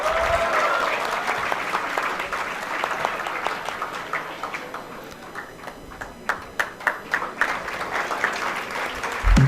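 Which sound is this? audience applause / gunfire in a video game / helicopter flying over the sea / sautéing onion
audience applause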